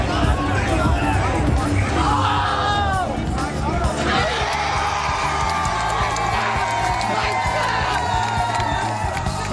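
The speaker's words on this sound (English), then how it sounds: "Her bottle flip had even the hardest bleacher creature fans cheering along" Baseball fans in the bleachers at Yankee Stadium cheer and whoop in a loud, continuous crowd roar with rising shouts, with speech over it.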